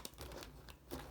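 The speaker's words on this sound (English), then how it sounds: "So I'm going to go ahead and restart the reading and shuffle the cards" Tarot cards are shuffled in quick, soft papery rustles and crinkles, close and faint, with a couple of brighter riffling bursts over about a second, no voices.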